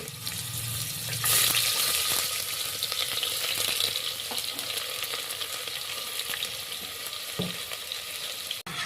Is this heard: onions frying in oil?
yes